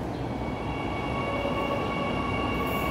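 An LRT train runs at Pegangsaan Dua station in Jakarta, making a loud, continuous rumbling rail noise with a thin high whine over it, close by and steady for the whole stretch.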